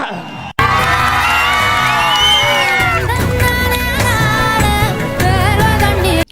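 A political party rally crowd cheers and shouts loudly and continuously, a dense roar of voices with whoops riding over a steady wash of clapping from start to finish.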